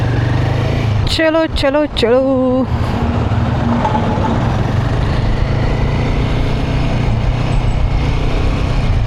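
A motorcycle rides along a coastal road in Gujarat after dark, its engine and wind roar steady and loud throughout, while a rider shouts briefly near the start.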